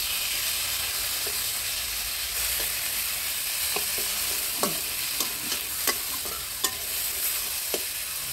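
Hot oil sizzles steadily as tomatoes fry for a fish curry, with a few sharp clicks of a spoon stirring the pan scattered through the second half.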